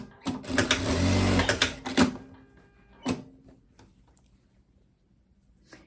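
A domestic sewing machine runs a wide straight seam on blouse fabric in one sustained burst, followed by a few short clicks and thumps of handling.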